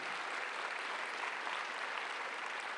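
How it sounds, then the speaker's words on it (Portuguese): Audience applause at a customer-experience conference talk, a steady wash of many hands clapping, even and continuous throughout with no voices over it. "queria uma salva de palmas para o Francisco"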